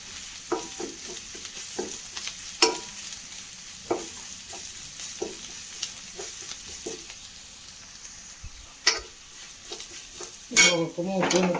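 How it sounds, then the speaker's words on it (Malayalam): About two spoonfuls of crushed chili fry quietly in a pan, a soft low sizzle broken by repeated scrapes and knocks of a spoon against the metal, with a couple of louder clanks toward the end. "ഒരു 2 സ്പൂൺ ചതച്ച മുളക് ഇട്ട് കൊടുത്തിട്ടാണ്. ഇതൊന്ന് മൂത്ത് വന്നോട്ടെ"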